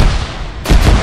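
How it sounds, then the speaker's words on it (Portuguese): Gunfire in the video game Arma 3: a broad, hissing burst of shots followed by a louder, heavier boom, close and loud with no talk. "Estão atirando aqui."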